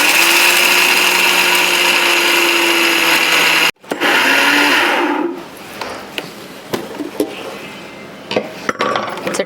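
An electric mixer grinder whirs loudly and steadily while grinding dry garlic chutney with turmeric, asafoetida, chilli powder and salt, then cuts off abruptly, briefly restarts, and stops, leaving faint clinks and handling sounds.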